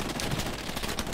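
Gunfire in the World War II shooter Hell Let Loose during an intense defence around a house with a tank nearby, a dense crackle of overlapping shots and bursts with no break across the short stretch.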